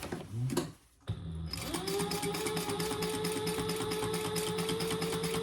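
Sewing machine stitching the bottom seam of a simple tote bag, running as a steady, fast, even whir close by after a brief start, with no talking.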